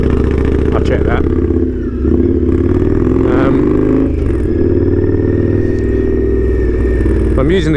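An Indian Scout Street Hooligan motorcycle with an open pipe, ridden with a steady loud engine drone, pitch rising through the gears and brief dips at each clutch upshift, plus wind noise.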